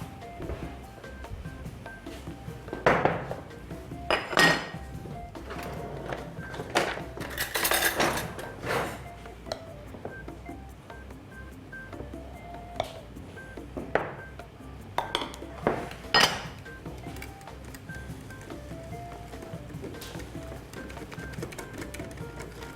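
Batter of egg white, sour cream and flour is whisked in a bowl, giving repeated scraping and clinking strokes against the bowl at an uneven pace, close and moderately loud.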